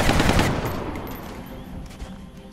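A burst of loud sniper gunfire in the video game XCOM: Enemy Within up front that fades into a lingering rumble, with a few faint shots trailing afterward.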